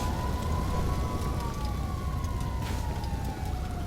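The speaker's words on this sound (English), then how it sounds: "The sirens are fire trucks going to put out the fires." Fire truck sirens in GTA Online wail in a long slow sweep, moderately distant, over a dense roar of game traffic and background noise.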